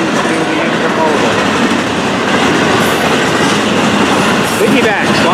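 Loaded freight train hopper cars rolling steadily past at close range, a continuous loud roar with clickety-clack wheel rhythm and faint squeals throughout.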